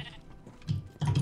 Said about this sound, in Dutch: Er loopt wel een schaap binnen